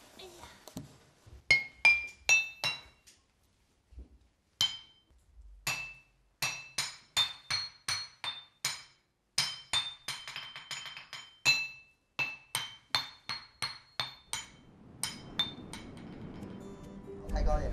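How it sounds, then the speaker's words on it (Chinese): Volcanic and igneous stones, differing in iron content and density, are struck one at a time as tuned notes, giving bright ringing clinks in a steady melodic rhythm, with a low rumbling noise rising toward the end. "把这些石头重新编排音符敲打"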